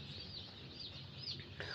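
Young chicks in a hatchery farm brooder heated by bulbs give soft, continuous cheeping and clucking, a busy, moderately quiet flock sound with no voices.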